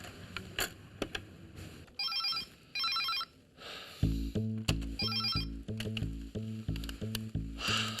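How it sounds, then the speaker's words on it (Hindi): Telephone bell ringing in short repeated bursts and going unanswered, set in an Indian TV drama scene; a rhythmic music score with a pulsing beat joins partway through and continues under the later rings. "इट्स रिंगिंग, लेकिन कोई उठा नहीं रहा है।"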